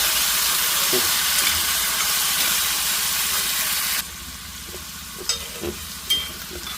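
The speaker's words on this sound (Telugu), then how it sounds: "గుమ్మడికాయ ముక్కలు వేసాను ఇవి మంచిగా వేగాలన్నమాట" Pumpkin pieces frying in hot tempering oil: a loud, steady hissing sizzle that suddenly drops to a quieter bubbling, broken by a few clinks and scrapes of stirring.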